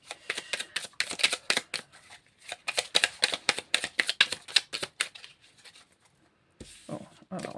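Angel oracle cards being shuffled and drawn for a reading, a quick run of crisp riffling flutters and snaps up close, then a pause and a final soft shuffle.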